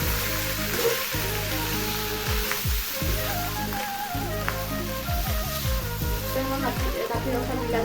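Pork curry with chopped tomatoes, cooked without oil, sizzles and fries in a pan with stirring. The frying is loud and continuous over a tonal, stepped background hum.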